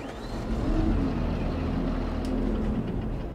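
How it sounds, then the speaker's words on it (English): A Kubota tractor engine in Farming Simulator turns over and settles into a steady, loud low diesel rumble with a tonal hum, running alone for a few seconds. "Let's turn over that engine."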